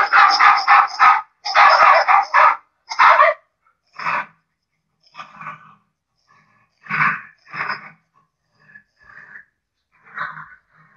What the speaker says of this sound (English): So that's the sound a computer dog makes.